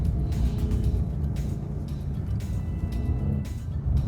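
An AMG rear-wheel-drive car on an ice track in Arjeplog, Sweden, its engine droning steadily with low rumbling revs that rise and fall slightly throughout, continuous and close with no speech.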